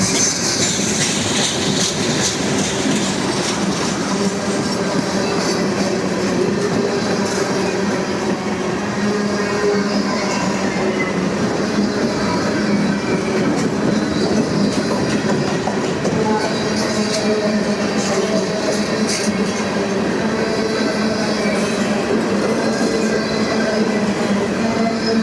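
A train rolls past the old L&N depot in Madisonville, Kentucky, on a cold, windy day, its railcars clacking steadily over the rails in a continuous rumble with occasional wheel squeal, fairly close and sustained throughout.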